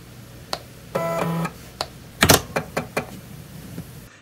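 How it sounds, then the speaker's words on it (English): The mechanical floppy drive inside a MEGA65 computer clicks sharply and whirs in short spinning bursts, a close, isolated series of mechanical ticks and a brief motor hum. "the drive within the Mega 65 is clicking and making spinning sounds"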